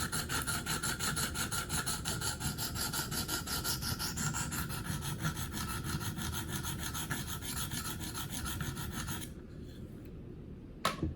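A Gerber Paralite knife blade is sharpened on a KME guided-rod sharpener, close, rapid rhythmic rasping strokes of stone on steel running continuously before stopping near the end, followed by a faint tap.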